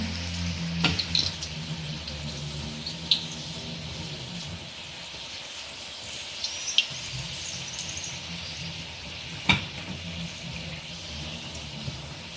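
Potato samosas fry in hot oil with a steady, dense sizzle that runs throughout, broken by a few faint clicks of a utensil, close and even, with no talk.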